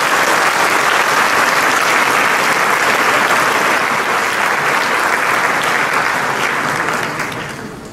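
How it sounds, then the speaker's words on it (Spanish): Sustained audience applause for a group of the General Chaplaincy at an archdiocesan education gathering, a dense, loud, even roar of clapping that holds steady and fades near the end. "Un aplauso entonces para"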